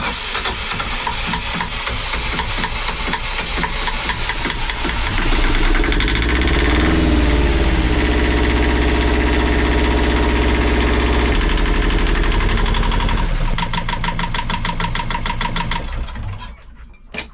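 Yanmar 2GM20 twin-cylinder marine diesel cranking and catching, then running at a steady, loud idle close by with rhythmic mechanical knocking and a hissy rush, revs briefly rising before settling and shutting down.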